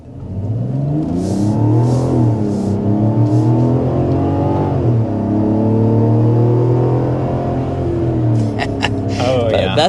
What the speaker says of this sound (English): That was an acceleration in sport mode.